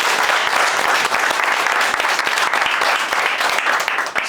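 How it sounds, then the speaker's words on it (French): A seminar audience at a sales meeting applauds in dense, steady, loud clapping with no pauses. "Applaudissez pour vous-même."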